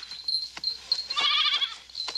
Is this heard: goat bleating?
yes